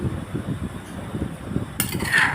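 Spoon scraping and clinking against a dish while Thai dipping sauce for boiled chicken breast is ladled out, a steady run of small close metallic taps with a brighter clatter near the end.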